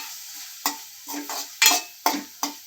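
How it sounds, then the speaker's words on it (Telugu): Spices for rasam stirred in a hot pan, five or six distinct scraping strokes each followed by a short burst of sizzling, close and fairly loud with no voices. "మొత్తం ఇలా ఫ్రై చేసుకోవాలి చూడండి ఫ్రై చేసుకోవాలి"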